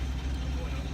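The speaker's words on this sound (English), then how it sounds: "we're just gonna listen to the hum of the diesel motor" A sailboat's diesel motor gives a steady, low mechanical hum during a Chesapeake-to-Bermuda passage. The drone is constant and close, with broadband noise across the brief clip.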